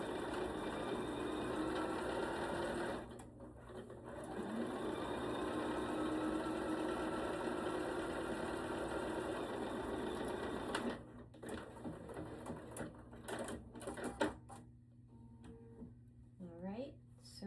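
A sewing machine stitches a rectangular fabric piece whose top edge is turned in, running in long steady buzzing bursts with brief stops, while a voice talks softly in the background.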